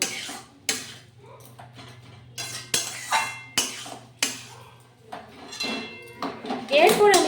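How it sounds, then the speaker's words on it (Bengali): A utensil scrapes and clinks against a pan while water spinach is stirred with whole cumin and dried chilli, a series of separate knocks and scrapes, some sizzling near the end. "এই মশলাটা দিয়ে আবারও আমি ভালোভাবে নেড়ে চেড়ে মিশিয়ে নিচ্ছি শাকটার সাথে"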